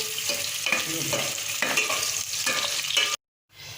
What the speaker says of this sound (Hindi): तेज़ फ्लेम पे इसको हमने रखना है कि प्याज ब्राउन करनी है